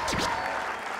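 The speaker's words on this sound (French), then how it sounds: "Un applaudissement encore très fort pour vous." Loud, dense audience applause fills a comedy show hall, a steady wash of many clapping hands heard close and sustained throughout the second with no voices over it.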